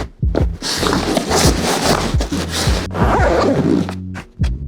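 A LEV-24 backpack's full-height main zipper is pulled along its track in long, loud rasping strokes with short pauses between pulls, close up and with no talking over it.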